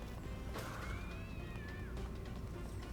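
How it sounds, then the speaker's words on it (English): A cat meows after being knocked out of a trash can in Crash Bandicoot 4: It's About Time, a single drawn-out, rising-then-falling meow over steady game background noise. "So just hit the trash can, I guess, and get a cat out of it."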